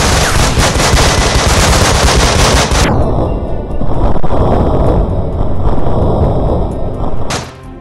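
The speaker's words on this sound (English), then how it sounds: "Suppressing fire." Loud, dense automatic suppressing gunfire in the Breach & Clear tactical shooter game, rapid continuous bursts with a ringing electronic tone entering partway through.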